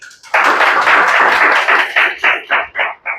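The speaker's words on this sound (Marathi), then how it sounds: "एकदा टाळ्या स्वागत करा" An audience claps to welcome a newly selected village officer candidate, a loud burst of dense applause that thins into a few scattered final claps within about three seconds.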